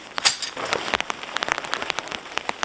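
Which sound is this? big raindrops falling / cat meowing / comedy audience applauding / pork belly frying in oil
big raindrops falling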